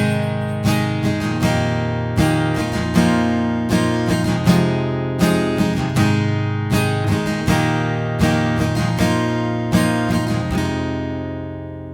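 An acoustic guitar plays a beginner lesson's chord pattern with added upstrokes, heard alone as a steady rhythm of bright down and up strums with regular accented chord changes.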